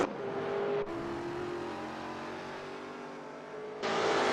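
A Roadways Holden Commodore race car in Assetto Corsa, its engine droning in a steady, even note that drops abruptly as it shifts, then rises again near the end, moderately loud with no voices.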